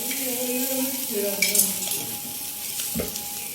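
Prawn kebabs sizzle and fry on a hot tawa, a steady crackling hiss broken by a few scrapes and clinks of a utensil stirring, close up and without talk.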